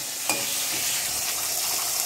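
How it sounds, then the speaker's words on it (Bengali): Potatoes frying in a pan give a steady, close broadband sizzle that runs unbroken throughout, with a faint scrape or stir near the start. "আলু ভাজা"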